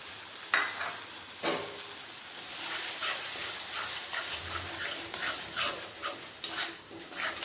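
Ground mustard, poppy seed and green chilli paste frying in a pan with melted tomato, a soft continuous sizzle broken by scraping stirs and clinks of the spoon.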